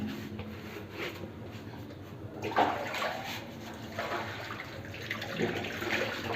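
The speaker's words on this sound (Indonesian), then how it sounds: "Dan di sini juga ada kerannya. Oke, kita coba airnya." Tap water runs steadily into a mosque washing area used for ablutions, a close, continuous broadband splash that grows fuller midway with sloshing as hands or feet move through the flow.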